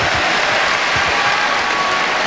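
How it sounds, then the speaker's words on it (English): A basketball arena crowd gives Michael Jordan a sustained ovation at a 1998 Knicks–Bulls game, a steady wash of loud applause and cheering filling the whole moment with no break. "an appreciative ovation for Jordan"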